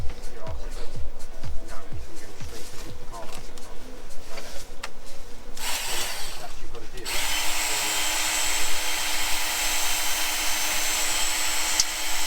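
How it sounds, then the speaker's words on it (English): A workshop sharpener powered by a Jackery portable power station whirs up and runs with a steady high grinding whine, following a stretch of clicking and rustling at a woodland camp. "Will the Jackery power a workshop sharpener?"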